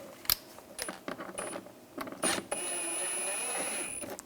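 License plate bracket screws are snugged down on a 2013-2016 Dodge Dart: a series of close mechanical clicks and ratcheting taps, followed by a steady whirring drone with a thin high whine.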